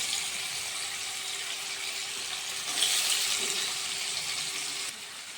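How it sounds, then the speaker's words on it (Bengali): Paneer pieces frying lightly in hot oil give a steady, even hiss that runs unbroken throughout, with a slight swell midway and no talking. "তেল গরম হয়ে গেছে আমি এখন পনিরগুলো হালকা ভেজে নেব"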